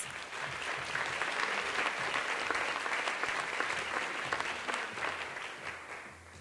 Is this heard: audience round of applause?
yes